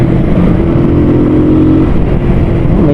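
A motorcycle engine runs on the road with a loud, steady drone and a low tonal hum that lifts briefly in pitch midway, then settles, with no voices heard.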